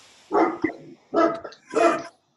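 A dog barks three times in a row, loud and close, during an online video call, with brief pauses between the barks.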